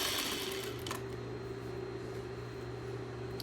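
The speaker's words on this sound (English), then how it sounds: "I'm sewing, you can see that the fabric is almost sewn into a circle" A sewing machine stitches elastic into a fabric casing, its motor running as a steady, close, continuous hum with a faint mechanical whir throughout.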